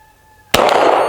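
A single sharp pistol shot from a CZ P-07 fired in double action, loud and close, bursting out of near silence and ringing on briefly.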